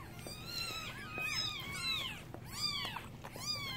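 Newborn kittens mewing in a litter, high thin cries overlapping in quick repeated bursts, close and fairly loud, with no talk over them.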